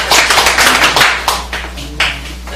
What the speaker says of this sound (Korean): 오 교수님 소개할 테니까 박수 좀 받아주세요.